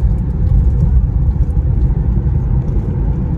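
An Infiniti Q50 cruises through a cloudy canyon valley, heard from inside as a continuous low engine and road rumble at steady, moderately loud level, without talk.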